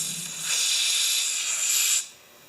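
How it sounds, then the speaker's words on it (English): Compressed air or spray hisses loudly through the dirty screen of a damaged Husqvarna 36 chainsaw, a close, steady burst of about one and a half seconds that cuts off abruptly. "See if we can spray through there."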